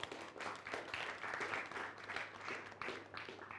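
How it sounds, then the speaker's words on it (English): An audience at a workshop claps for themselves, a steady, moderately loud round of applause that continues for a few seconds. "If you know you can do it, clap for yourself."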